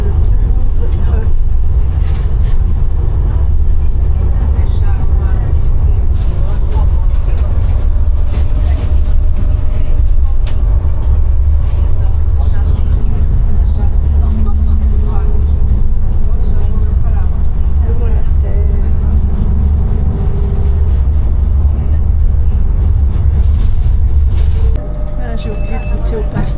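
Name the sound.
riding inside Lisbon tram line 15E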